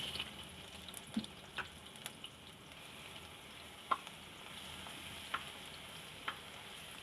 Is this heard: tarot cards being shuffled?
no